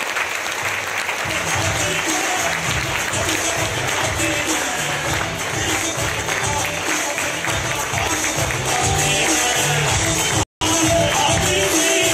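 A large audience at a network marketing mega event in Delhi applauds a speaker in a dense, steady roar of clapping that lasts throughout, briefly cutting out near the end, with faint voices mixed in.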